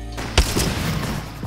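Gunfire in the Apex Legends video game: a single sharp shot near the start followed by a few fainter reports, with a low rumbling game ambience throughout.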